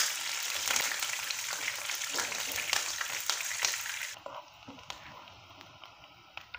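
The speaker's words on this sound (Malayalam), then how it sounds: "ഇഞ്ചി നന്നായി മൂത്ത് വന്നാൽ ഇതിലേക്ക് പച്ചമുളക് അരിഞ്ഞതും ചേർക്കാം." Chopped ginger and green chili sizzle in oil in a pan, with a dense crackling hiss that drops to a quieter, sparser sizzle partway through, punctuated by occasional stirring clicks.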